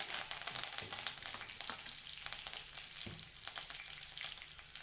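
Mustard seeds and curry leaves sizzle in hot oil for an Andhra-style fenugreek dal, a close, continuous frying hiss with scattered sharp pops and crackles of seeds bursting, no one speaking.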